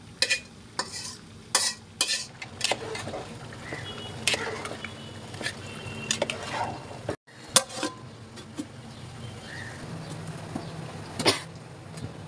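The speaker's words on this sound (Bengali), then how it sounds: "চিকেনটা খিচুড়ির উপর ঢেলে দেব।" Cooked chicken poured over chicken khichuri in a pot, with a continuous sizzle broken by intermittent scraping and clinking of stirring, and a brief pause midway.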